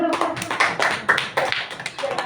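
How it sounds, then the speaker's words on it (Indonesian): A small group applauds at a school teachers' gathering: uneven, fairly close hand clapping that keeps a loose rhythm throughout, with no voices over it. "Tepuk tangan dulu."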